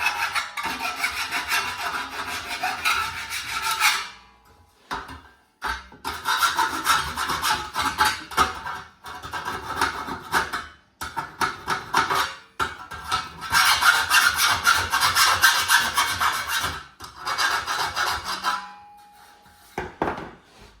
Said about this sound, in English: What we have to do is give it a good file all on the inside.